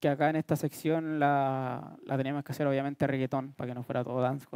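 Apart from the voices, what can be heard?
No everyday noise stands out behind the speech.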